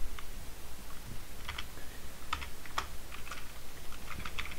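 Someone typing C code on a computer keyboard, with irregular bursts of light, close keystroke clicks over a quiet background hum.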